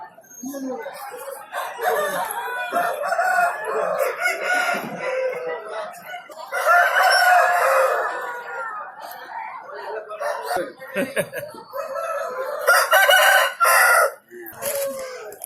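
Pattakkundai roosters crow repeatedly at a livestock market in Gobichettipalayam area of Erode district, several loud, close crows mixed with clucking, under and between people talking.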